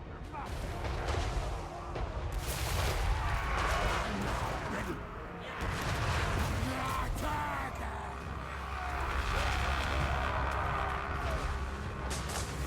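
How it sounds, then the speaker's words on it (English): Artillery and gunfire in a Warhammer 3 battle, dwarfs fighting Skaven, rumbling as a dense continuous barrage of booms and blasts with no pause throughout. "They will return fire with artillery, that's fine."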